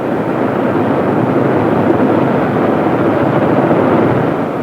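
Douglas A-26 aircraft engines on approach and landing, a loud, dense, steady propeller-engine roar that stays close and constant without any talk.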